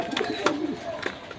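German Dilbar pigeons coo softly in a loft, several low throaty calls overlapping amid rustling and flock noise, close by and steady.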